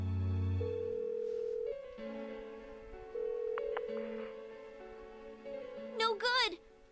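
A phone call rings out in the role-playing game Persona 4: a series of steady electronic tones in separate phrases with short gaps, then a brief warbling chirp near the end.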